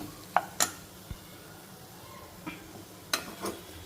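Green chilli fry coated in gram flour is stirred in a pan, giving quiet scattered scrapes and taps of the spoon over a faint background sizzle.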